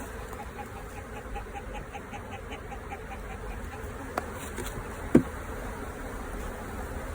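Honey bees buzz over a hive frame full of brood about to hatch, a faint steady hum in the background with a couple of brief clicks and no talk.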